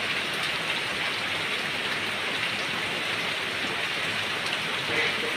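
Heavy rain falls steadily outside, a thick, constant roar of drops drumming on surfaces, loud and even throughout with nothing else breaking through.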